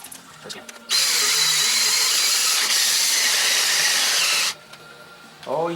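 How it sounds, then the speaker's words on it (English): An electric drill with a large chuck and bigger bit bores into a Kawasaki KLX351 crankcase, a steady high-pitched whine lasting several seconds after a quiet start, then cutting off abruptly. "drill here that has a bigger chuck, which allows me to be able to put in a little bit bigger drill bit"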